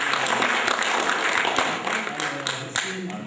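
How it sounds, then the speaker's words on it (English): Applause from an alumni crowd at an IIT Kanpur class of 1977 thirty-fifth-year reunion, a steady wash of many hands clapping for several seconds with a few sharper claps standing out. "So kindly have applause for the Dean RPG."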